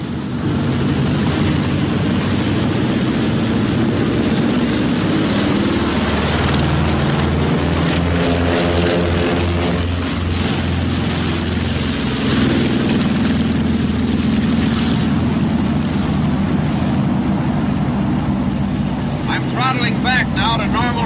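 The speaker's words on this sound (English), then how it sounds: "you have enough speed, the ship will take off by itself." Loud, steady roar of a B-26 airplane's piston engines during takeoff, a dense droning rumble filling the whole stretch with a slight pitch shift midway, while someone talks over it.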